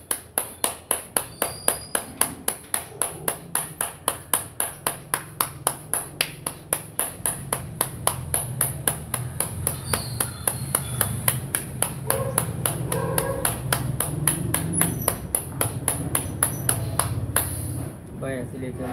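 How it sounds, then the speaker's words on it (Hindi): Steady rhythmic hand clapping, sharp regular claps repeated throughout a bhastrika breathing exercise, loud and close, with soft background sound and no speech. "तालियों के साथ भस्त्रिका करें।"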